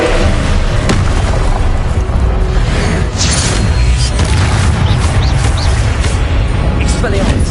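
A loud, sustained blast of roaring fire and booming bursts fills the scene as the Incendio spell is cast in Hogwarts Legacy, dense and continuous throughout with no pauses.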